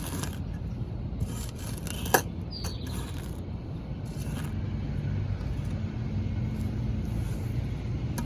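A garden hoe scrapes through soil and weeds in a garden bed, giving faint, intermittent gritty scrapes with one sharper knock, set against quiet outdoor ambience.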